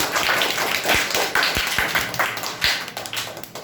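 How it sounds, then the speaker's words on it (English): Audience at a school public speaking competition clapping for a young speaker, a scattered round of sharp individual claps close by that thins out over a few seconds. "Clap for Rashi."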